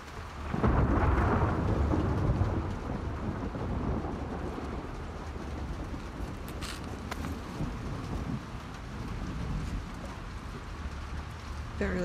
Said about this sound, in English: I love thunderstorms. They're so nice.